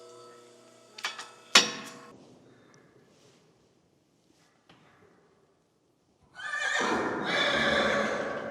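A horse whinnies in a stable during nasal swab and temperature checks, a loud close neigh near the start, then quiet, followed by a steady rush of noise toward the end.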